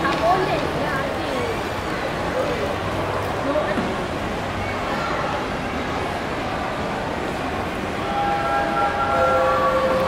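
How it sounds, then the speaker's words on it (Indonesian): A train rumbles past amid busy background noise and voices, with a faint whistle-like tone rising near the end. "Tengok ada kereta api lalu."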